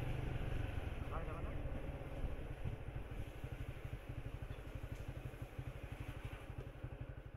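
A motorcycle rides along a village road, its engine putting out a steady, rapid low pulsing that holds at a constant level throughout, with faint broadband road and wind noise layered over it.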